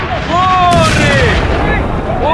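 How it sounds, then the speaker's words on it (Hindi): Heavy bombardment in wartime footage from the Iran-Israel conflict comes through as loud, rumbling booms and blasts that fill the whole clip. Frightened voices cry out over the explosions. "भीषण भीषण बमबारी है ये"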